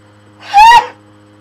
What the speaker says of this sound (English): I have to sneeze, but it won't come out.